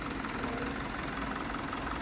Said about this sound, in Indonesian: itulah suara mesin dari OF 917 pada saat idle